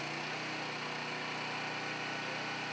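An auxiliary power unit engine runs steadily on a heavy haul tractor coupled to a Fontaine hydraulic gooseneck trailer, a faint, even hum with no change in pitch.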